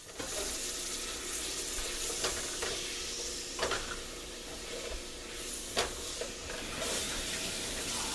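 Shrimp étouffée ingredients cooking down in a pot: a steady, moderate sizzle and bubbling simmer, broken by a few soft clicks and stirring knocks, with no talking.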